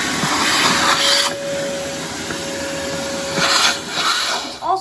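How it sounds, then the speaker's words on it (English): A shop vac sucks dirt out of the air box of a 2005 Honda CRF450R with a loud, continuous whooshing roar and a steady whine, rising in rushes as the nozzle moves, with no talking. "we're going to take our shop vac and clean out all the excess dirt"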